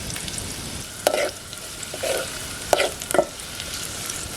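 Onion frying in a pan over a wood-fired stove, a soft steady sizzle with several short louder bursts of stirring and scraping close by.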